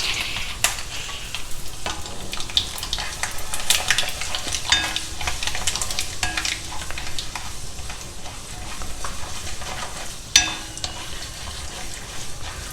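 Mustard seeds, urad dal, a dry red chilli and curry leaves sizzle and crackle in hot oil in a pan, a steady frying hiss with sharp pops and occasional stirring clinks, close and continuous without talk.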